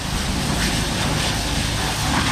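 A high-pressure water jet sprays over a vehicle during a wash, making a loud, continuous roaring hiss close to the microphone with no pauses and no talking.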